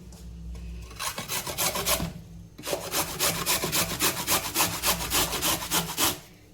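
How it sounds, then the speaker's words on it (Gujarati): Carrots being shredded on a hand grater for a mixed-vegetable muthia dish, a fast run of loud, rhythmic rasping strokes after a short pause, close up with no talking. "હવે એમાં આપણે ગાજર ખમણી લેવાનું છે"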